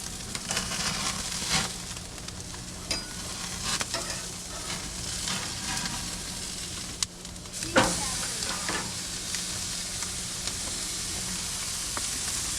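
Big steak sizzling loudly on a Char-Broil grill right after being flipped, a dense, steady hiss lasting throughout with a few clicks and clanks of a utensil.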